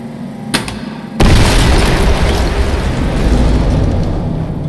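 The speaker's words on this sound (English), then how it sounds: "Yay, two explosions." Two explosions go off in the video game Far Cry 4: a short sharp burst followed by a loud, heavy boom that rolls into a long roaring rumble.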